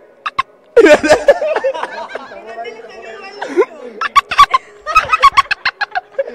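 A man imitates a rooster's crow with a strained, wavering call, broken up by bursts of laughter and chatter from people nearby on a Panamanian streaming variety show.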